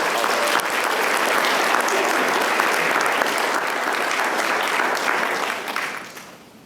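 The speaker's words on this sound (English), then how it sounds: "So y'all give her another big round of applause." An audience at a school board meeting applauds a student in a full, dense round of clapping that holds steady for several seconds, then fades quickly to quiet.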